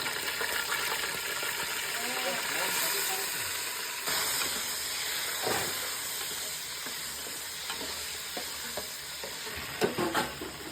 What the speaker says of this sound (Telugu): మటన్ ఫ్యాట్ని కొంతసేపు మస్టర్డ్ ఆయిల్లో ఎక్కువ ఫ్రై అవ్వడానికి ఉంచుకుందాం